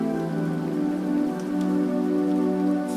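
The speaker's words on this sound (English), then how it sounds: "Feel the cool, fresh air that the rain brings." Steady rain falls on a surface, a continuous even patter with no breaks, fairly close and alone.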